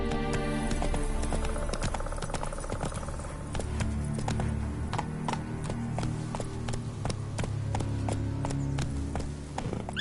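Roach, the horse in the video game Witcher 3, gallops with a fast, even clip-clop of hooves over a low rumbling game soundscape, steady and close throughout.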